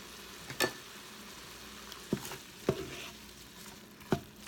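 Meat for spaghetti browns on the brown setting of a pressure cooker, a soft low sizzle punctuated by a few sharp knocks and scrapes of stirring, close by with no talk.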